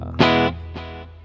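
Valley Arts California Pro electric guitar on a clean amp channel with neck pickup and a touch of delay: two strummed chords, a loud first one ringing about a third of a second, then a softer second that fades out.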